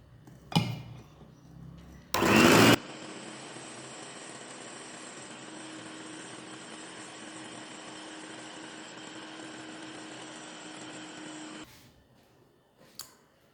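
An electric mixer runs steadily for several seconds, mixing cake batter as oil is gradually poured in, its motor hum constant and fairly loud, framed by brief clunks at the start and end.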